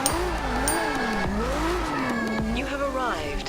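A racing video game car engine revs and wavers up and down as it drives, with a continuous whining pitch that rises and falls, loud and steady throughout.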